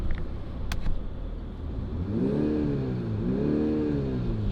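A BMW X3 xDrive 30e in sport mode revs twice, rising and falling to about 4,000 RPM, loud and close over a noisy background after a brief click.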